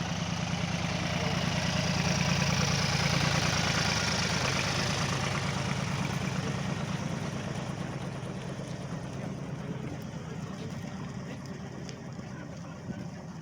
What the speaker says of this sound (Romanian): Deja știu că vine tractorașul.